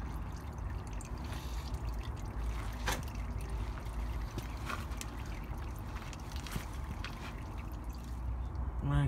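Engine oil drips steadily from the drain of a VW Golf MK4 GTI during an oil change, faint irregular drips and trickles under a loud, continuous low rumble of background noise.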